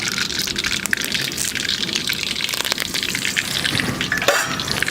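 Mustard seeds, urad dal and curry leaves hit hot oil for a large batch of tomato rice, giving a steady, dense sizzle and crackle that holds at the same level throughout, with no voices.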